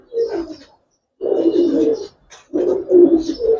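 Several pigeons coo in low, throaty bursts, close and fairly loud, in three clustered phrases separated by short pauses. The birds are silver-lined coloured fancy pigeons kept as flying pairs.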